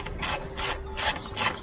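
A ratchet wrench loosens a bolt on the intake manifold of a Honda CR-Z ZF1, four quick close-up ratcheting bursts in an even rhythm.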